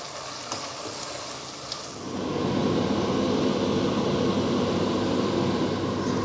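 Onions fry in a pan for chicken curry, a soft sizzle that swells after a quieter start and then holds as a steady, close hiss with no talk.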